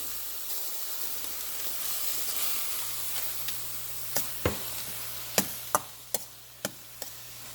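Cauliflower and grated coconut are stirred in a hot pan, giving a soft, steady sizzle. A run of sharp, evenly spaced clicks and scrapes from the spoon against the pan comes near the end.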